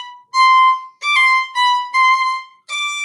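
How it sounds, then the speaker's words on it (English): Solo violin playing an orchestral region excerpt with quick grace notes ahead of the beats, several clear bowed phrases separated by short silences, close and alone. "So with the grace notes, starting in 17, it'll sound like this."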